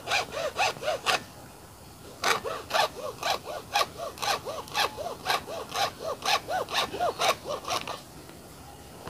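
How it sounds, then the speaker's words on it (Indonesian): A hand saw rasps back and forth in steady rhythmic strokes, a short burst, a brief pause, then a longer run of even strokes, close up. "Di sini saya menggunakan gergaji."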